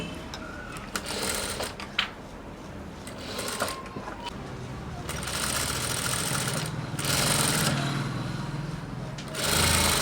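A sewing machine stitching blouse fabric pieces together runs in close, loud bursts of rapid mechanical whirring, stopping and starting several times.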